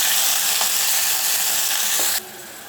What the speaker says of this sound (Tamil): இப்போ எண்ணெயில் இஞ்சி பூண்டு பேஸ்ட்டு எல்லாமே நம்ம அரைச்சி தான் சேர்க்க போகிறோம்